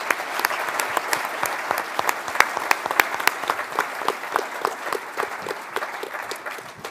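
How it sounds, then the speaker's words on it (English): An audience gives a round of applause at a naval sailors' forum panel, steady clapping with many sharp individual claps standing out, going on for several seconds and tapering slightly at the close. "So please, a round of applause for these great patriots."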